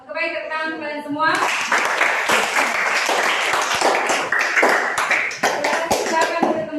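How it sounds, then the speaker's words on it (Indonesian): A class of children clapping and applauding together in a classroom, a dense, close burst of claps that starts abruptly after a brief sung phrase and carries on steadily to the end. "Oke, baik, tepuk tangan kalian semua."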